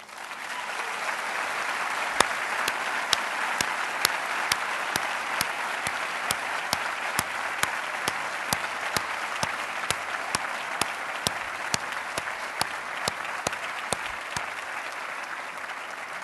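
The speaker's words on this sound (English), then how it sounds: "I would like a round of applause for this building." An audience at a farewell concert in a university building applauds for a long stretch, dense sustained clapping with crisp individual claps standing out at regular intervals near the listener.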